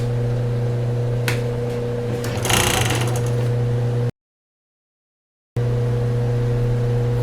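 A sewing machine runs a seam joining a bra cup right side to right side, a steady mechanical hum with a brief burst of faster stitching, close and fairly loud, cut by a short gap of silence.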